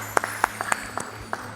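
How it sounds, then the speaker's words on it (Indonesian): A church congregation claps in scattered, uneven bursts, a handful of sharp hand claps spread across a quiet hall with a faint hum beneath. "Kita beri tepuk tangan bagi Tuhan."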